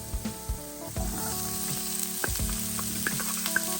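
Chopped onion sizzling as it is added to hot oil with garlic and ginger for a Bulacan-style sinampalukang manok, a steady close frying hiss broken by a few scraping stirs and utensil knocks.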